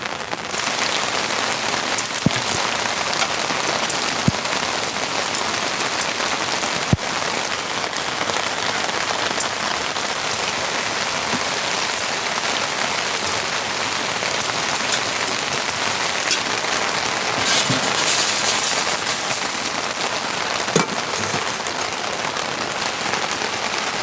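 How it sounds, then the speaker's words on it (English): Heavy winter rain pours down on a camping tent in a dense, steady hiss of drumming drops, with occasional louder individual splats, lasting the whole stretch without any voices. "The rain has reached absolute deluge status. Listen to that sound. That's a lot of water coming down."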